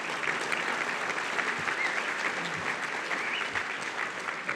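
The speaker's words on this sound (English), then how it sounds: "let's have one more applause for these 5 tremendous individuals" A hall of fame induction ceremony audience applauds in a large hall, a steady, dense wash of clapping that stays even and sustained from start to finish at moderate distance.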